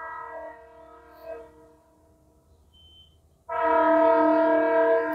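Train passing by and sounding its horn, a long tonal blast that fades, a short quiet gap, then a second louder, harsher horn blast held close until the end.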